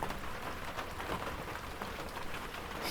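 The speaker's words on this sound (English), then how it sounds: "it's absolutely tipping down" Heavy rain pours down steadily outdoors near mountains, a dense, continuous hiss of drops drumming on surfaces, loud and unbroken throughout with no voices.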